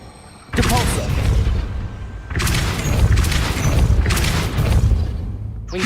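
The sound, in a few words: Depulso spell cast in Hogwarts Legacy video game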